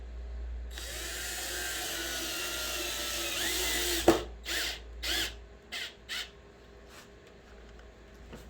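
Power drill driving screws into the feet of a wooden cutting board: a sustained whine runs for about four seconds, then a sharp knock and several short bursts as the screws are snugged down, close up.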